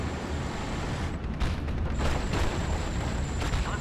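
A fuel explosion destroying an M10 tank destroyer in Steel Division: Normandy 44, heard as a muffled rumbling boom within a constant dense roar of distant battle and artillery.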